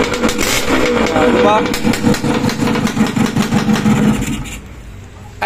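A Suzuki X4 motorcycle running a freshly rebored engine with a new connecting rod, heard close and loud, revving briefly and then settling into a lumpy idle, with someone talking over it.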